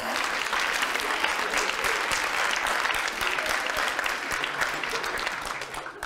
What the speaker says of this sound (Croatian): Ne znam koliko ste obratili pažnju, ali prije ovog aplauza je uslijedio jedan mini val